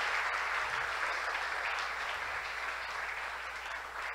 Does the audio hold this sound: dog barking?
no